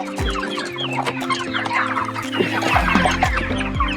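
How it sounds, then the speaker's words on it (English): Meat chickens on pasture cluck and chatter steadily up close, several birds overlapping in a busy flock murmur, with low engine-like hum beneath. "We move our chickens through the pasture."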